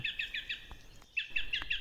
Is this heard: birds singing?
yes